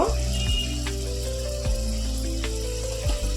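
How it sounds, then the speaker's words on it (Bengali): Mutton for biryani sautéing with salt and garam masala in a pan, a loud steady sizzle with a few dull scrapes of a stirring utensil breaking through, close up and without talk. "1/2 চামচ মতো গরম মশলা দিয়ে এবার এটাকে সুন্দর করে নেড়ে নেব। নেড়ে একটুখানি কষিয়ে নেব।"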